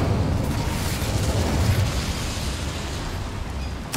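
Incendio fire spell cast in Hogwarts Legacy: a deep, rumbling roar of flame that rolls on steadily for several seconds, loud and close, ending in a short sharp crack.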